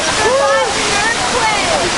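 Water splashing and rushing during the Universal Studios Hollywood studio tour flood scene, a steady loud wash with excited voices and chatter over it.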